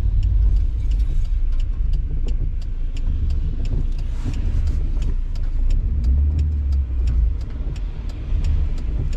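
Cars passing on a road make a steady, close engine rumble and tyre roar that swells and fades continuously, with no talking.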